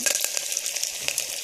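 A close, bright sizzle of something lightly frying in a pan, busy and crackling throughout with small spatter pops and no voices.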